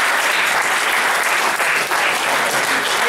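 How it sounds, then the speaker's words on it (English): A crowd applauds loudly and steadily at a high school JV and varsity sports awards night, a dense wash of clapping that lasts about three seconds without a break. "Hey, round of applause for the Water Buffalo."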